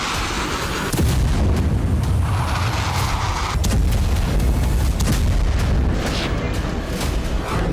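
Turkish artillery bombardment: a series of heavy booms and blasts, some sharp and close, rolling over a dense rumbling background with no voices.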